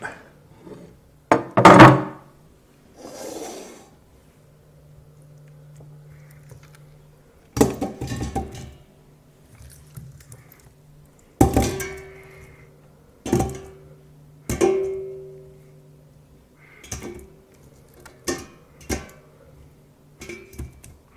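Hard corn kernels tumble into a metal pot for a one-gallon batch of corn wine, a few separate clattering pours and clunks with scattered rattles and knocks between them, close by with no talk.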